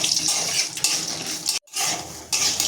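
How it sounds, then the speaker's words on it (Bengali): Mustard seeds and peanuts fry in hot white oil in a pan, a close, steady hiss of sizzling with crackles, briefly cut off by a short silence midway before resuming. "আমি এবার গরম তেলে সরষে দিয়ে দিচ্ছি। এবার দিয়ে দিচ্ছি বাদাম। এটা ভেজে নেব।"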